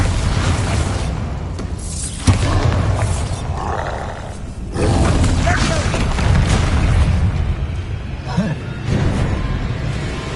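Bombarda blasting spells explode repeatedly in the video game Hogwarts Legacy, a series of loud booming bursts and roaring rumbles following one another over dense game sound.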